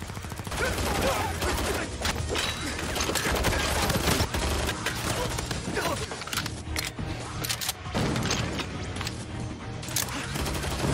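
Rapid, irregular bursts of gunfire crackle back and forth as Jintai trades shots with pursuing police and soldiers in and around a building in a film, dense and loud throughout, with a voice talking over it.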